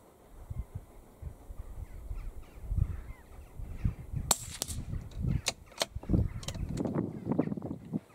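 Sharp report of an Anschutz rifle shot, one of several crisp cracks spread across the clip, standing out over steady outdoor background noise.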